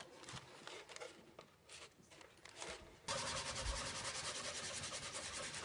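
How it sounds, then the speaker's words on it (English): Paper is rubbed by hand against a lacquered box to transfer a maki-e design: quiet scratchy strokes at first, then a steadier, louder continuous rubbing, with no voices. "Rubbing on the paper, he then transfers the design onto the surface."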